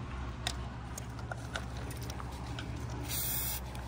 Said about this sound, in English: Did I spray you with WD-40?